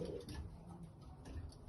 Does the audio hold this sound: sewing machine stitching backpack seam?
no